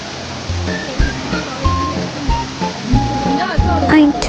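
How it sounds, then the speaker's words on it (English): The waterfall near Golden Rock Pagoda gives a constant rushing wash of falling water, heard close under a person talking. "Now we can hear the voices of water."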